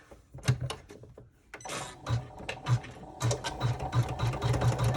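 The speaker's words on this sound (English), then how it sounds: "And then we're going to top stitch." A sewing machine top stitches fabric for a clutch in short bursts of rapid needle chatter, separated by brief pauses, close and fairly quiet.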